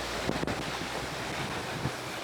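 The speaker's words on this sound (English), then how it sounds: "The cut is a narrow strip of water that constricts and intensifies the wind, waves, and current." Wind buffets the microphone while waves surge and slap around a sailboat pushing through a narrow sea cut in rough conditions, a loud, continuous wash with a few sharp gusts.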